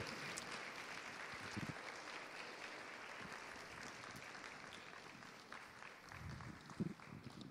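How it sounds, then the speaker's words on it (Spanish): Church congregation applauding, a continuous broad patter of clapping from many hands at a distance, faint and even throughout with no talk. "Le damos un aplauso a Jesucristo con todo el corazón"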